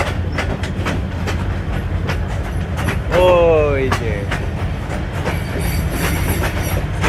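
The Burimari Express rolls along a rail line with a loud, steady rumble and rhythmic clickety-clack of wheels over rail joints, a brief wheel squeal midway, and a voice speaking briefly over it.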